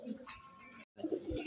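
A young male pigeon of a Tapan Saha bloodline coos at a loft in Bamangachi, giving short throaty calls close by with a brief silent gap midway.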